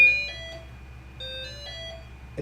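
A Dahua analog intercom gives its busy-line signal, a few soft electronic beeps and short tonal notes spaced apart over a low steady hum, faint and close by with no voices.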